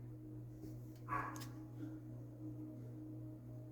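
A dog barks once or twice at a distance, faint and brief, over a steady low electrical hum in a quiet indoor room.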